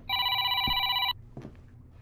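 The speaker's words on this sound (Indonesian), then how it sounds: "Oke, ada telepon lagi." A telephone rings in the horror video game Decadence: one sustained, bright electronic ring lasting about a second, then a soft thud and quiet room ambience.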